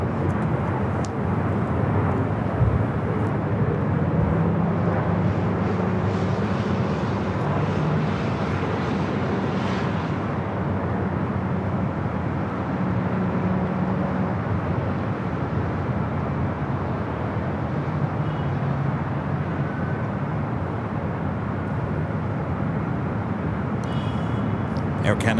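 An Air Canada Airbus A220-300 on runway 24 left at LAX, a continuous broad engine roar at moderate distance, holding steady with faint tonal hums and occasional higher hiss near the end.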